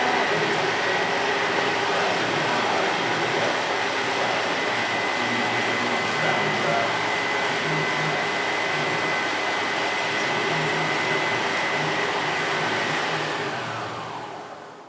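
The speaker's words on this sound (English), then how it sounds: "when you're mixing them with the mixing machine, you just have to stand there and make sure everything goes so well." An electric mixing machine beats cookie dough for melting moments cookies, giving a steady, loud motor whir that holds level throughout and fades at the very end.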